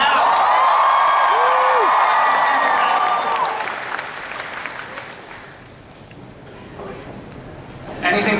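An audience in Hall H at San Diego Comic-Con claps and cheers loudly at a 2015 DC Entertainment panel, with a whistle early on. The dense applause fades gradually to a softer patter before swelling briefly again at the end.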